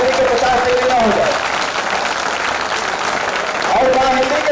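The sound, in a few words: audience applause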